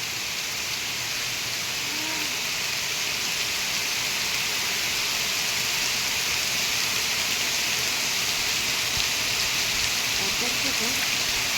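Heavy rain pours steadily in a dense, unbroken hiss that stays loud throughout, with occasional faint sounds underneath.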